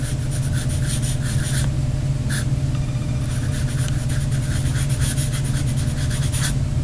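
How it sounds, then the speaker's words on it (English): A large, broad Sharpie marker writes cursive on paper, its felt tip making steady, close scratchy rubbing strokes in short bursts with brief pauses, over a constant low hum. "I'm gonna demonstrate with a huge Sharpie. So let's say I want to write something."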